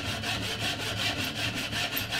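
A dull hand saw cutting through wood, with steady back-and-forth rasping strokes in a regular rhythm, close and fairly loud throughout, with no talking.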